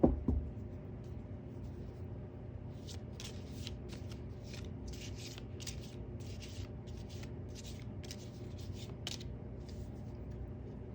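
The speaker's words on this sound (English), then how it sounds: "Let's shuffle one more time." Tarot cards being shuffled by hand, a quiet run of rapid riffling flutters repeating in short bursts over a low steady background hum, close up with no talking.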